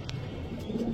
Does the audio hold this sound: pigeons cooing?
yes